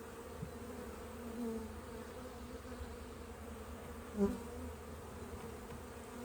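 Honey bees hum steadily around hive nucs during an inspection, a low continuous buzz close by with an occasional louder bee passing near, and no voices.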